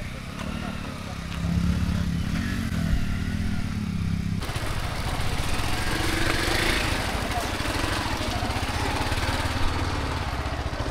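Motorcycle with a worn clutch pad, stopped on a road through a forest, runs with a steady engine drone throughout, its pitch and loudness shifting partway through, while people talk nearby.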